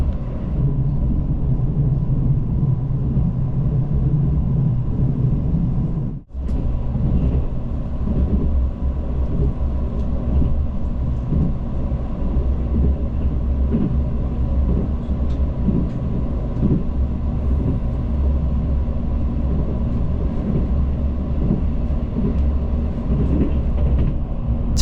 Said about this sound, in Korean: 잠시 후 열차는 외관역을 앞두고 경부선 연화역을 통과합니다